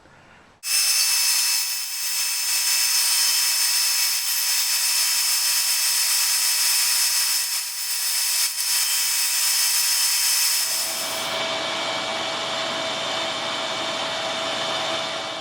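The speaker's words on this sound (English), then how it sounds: "I'll come down with the blade again and cut across and just chink out the end of this cut" A bandsaw blade slices across wood while shaping a back scratcher, a loud steady whine under motor drone, with the pitch dropping and easing near the end as the cut finishes.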